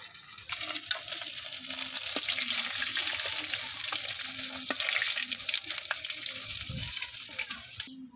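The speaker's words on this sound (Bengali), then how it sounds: "বন্ধুরা এই যে আমার মাছগুলো ভাজা হয়ে গেছে তখন উঠাই নিব" Fish sizzles and crackles steadily in hot oil in a pan, a dense, continuous frying hiss with occasional small pops and stirring clinks, loud and close with no talk.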